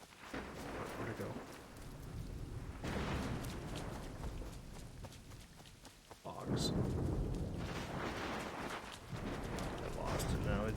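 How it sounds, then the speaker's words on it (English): Rain and rolling thunder in the Assassin's Creed III video game swell and fade in several loud bursts, with a game sound effect briefly in the middle and someone talking over it. "It's raining."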